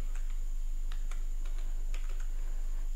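Keys tapped on a computer keyboard while entering a one-time passcode, a handful of light, separate clicks spread unevenly over a steady background hiss, with no talking.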